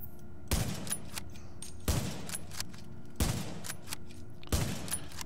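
Four evenly spaced gunshots ring out at a shooting range in the video game The Division, each a sharp close blast with a short rumbling tail, over a quiet background hum.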